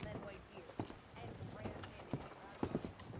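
Horses' hooves clip-clop at a walk in the Red Dead Redemption II video game, faint irregular knocks beneath game dialogue and ambient noise.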